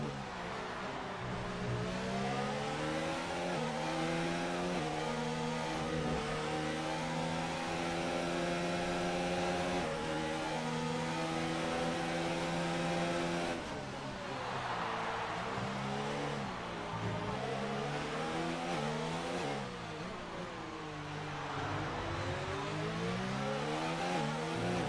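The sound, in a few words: Ferrari race car engine revving in racing video game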